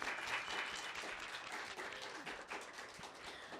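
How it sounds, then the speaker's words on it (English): Audience at an open mic event giving a round of applause, a continuous crackle of many hands clapping at moderate level for several seconds, fairly distant and steady. "Give him one more round of applause."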